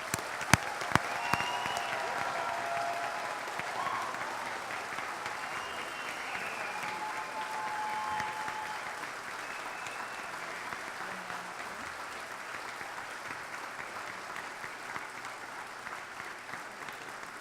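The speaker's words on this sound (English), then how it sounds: "Please join me in an enthusiastic round of applause for these scholars." Audience applause at a graduation ceremony for scholars, a broad, steady wash of clapping from a large crowd that holds at an even level throughout, with a few sharper claps near the start.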